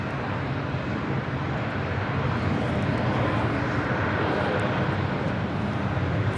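Asiana Airlines heavy jet departing Los Angeles International Airport, a steady, loud broadband engine roar that holds evenly throughout with no break.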